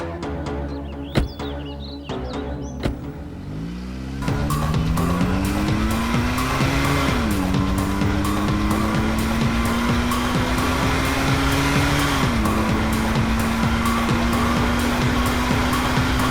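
A car accelerates hard with a loud, sustained engine roar that rises through gear shifts, joined by tire squeal, continuous and close for most of the stretch after a brief quieter opening.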